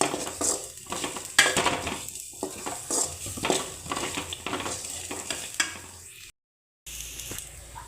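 Spatula stirring and sautéing onion and coconut in a pan for tomato kurma, with steady sizzling and frying plus repeated scrapes and clinks of utensil on pan, close and fairly loud, briefly cutting out near the end.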